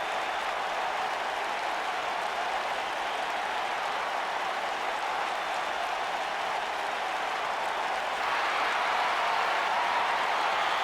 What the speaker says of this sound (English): And you can hear this crowd in San Antonio.